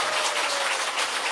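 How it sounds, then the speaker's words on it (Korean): An indoor audience claps together in a dense, even burst of applause that lasts the whole moment, with no voices over it. "다음은 박수 소리가 작아요"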